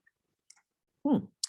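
A few soft, brief computer mouse clicks on a link, separated by near silence, with one fuller click-like thump in the middle.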